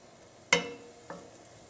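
Garlic and onions fry in a pan while cooking salted cod, with two brief sizzles: a sharp one followed by a fainter one, over a quiet background.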